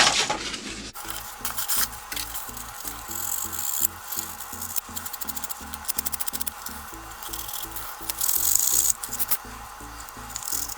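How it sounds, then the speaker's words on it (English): Steady abrasive rubbing and scraping as a metal electrical contact in a vintage slide projector is sanded, close up, with a rhythmic back-and-forth stroke pattern throughout. "So we'll go ahead and get some sanding done."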